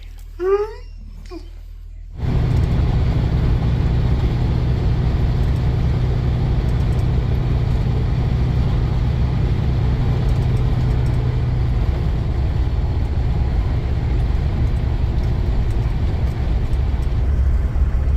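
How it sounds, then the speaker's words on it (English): A truck drives along a road, its steady engine rumble and road noise continuous and loud after a brief stretch of talk at the start. "We're in the truck, we are driving the truck"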